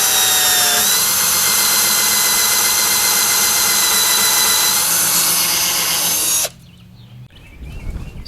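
A power drill grinds loudly and steadily through a Jeep Wrangler JK's plastic rear bumper for several seconds, then stops abruptly, leaving faint handling noises afterward.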